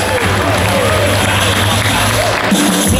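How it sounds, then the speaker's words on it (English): A Fan Fest crowd in Chicago claps and cheers for the Black Lightning cast, a loud, dense, sustained wash of applause with scattered whoops. "Another round of applause for these guys."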